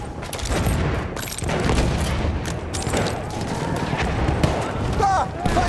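Enemy machine gun fire in Battlefield 1, sustained overlapping bursts and distant booms of battle filling the scene, loud and dense, with game voices talking over it.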